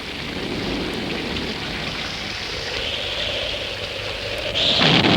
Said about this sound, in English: In this case, rain.